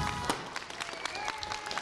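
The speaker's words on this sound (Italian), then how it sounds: "Facciamo un applauso alla sposa!" Guests applaud the bride at a wedding at a resort in Palmi, a steady patter of many hands clapping at moderate distance, fairly quiet and continuous.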